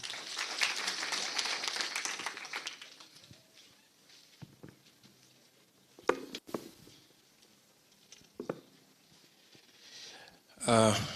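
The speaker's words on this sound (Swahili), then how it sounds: "Tumpigie makofi." Audience applause at a public budget and privatization forum in Kiambu County, a burst of clapping that fades over a few seconds, followed by scattered faint knocks and thumps.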